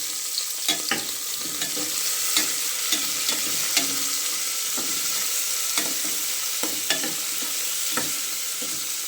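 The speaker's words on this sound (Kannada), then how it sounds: "ಈಗ ಕಟ್ ಮಾಡಿಟ್ಟಿರೋ ಟೊಮೊಟೊ ಸ್ಟವ್ನ ಮೀಡಿಯಮ್ ಫ್ಲೇಮಲ್ಲೇ ಇಟ್ಕೊಂಡಿದ್ದೀನಿ ನಾನು" Chopped tomatoes cook in oil in a pan on a stove at medium flame, a steady bright sizzle with occasional sharp pops and the scrape of stirring.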